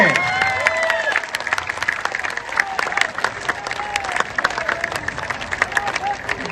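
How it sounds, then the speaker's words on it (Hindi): Loud, sustained applause from a crowd at a Jan Suraaj party event honouring Manoj Bharti as party president, dense continuous clapping throughout with a speaker's voice rising over it. "जोरदार ताली बजाइए।"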